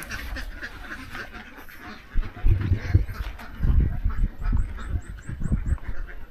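Itik Pinas ducks in a confinement pen at a duck farm, quacking in scattered bursts over low rumbling and footsteps, fairly near, with a faint high chirping in the background.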